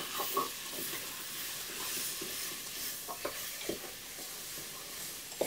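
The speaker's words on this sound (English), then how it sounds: "So just give it a stir. Let it cook down for a couple minutes." Sweet potato hash with cinnamon and dried orange peel sizzling in a pan while being stirred, a quiet steady hiss broken by soft scraping and tapping of the utensil, no speech.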